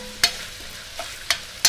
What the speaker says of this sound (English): with the onion and get the meat browned